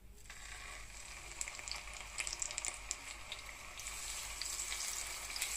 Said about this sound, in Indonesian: Sekarang saya mau mulai goreng.